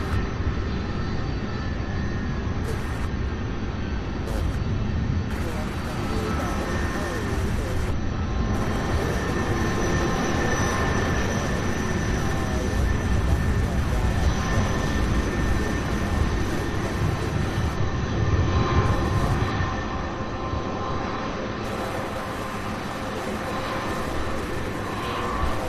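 A jet airliner from Billings, Montana touching down on runway 35 left at Louisville International Airport, a loud steady engine roar that stays close and constant throughout with broadband rumble.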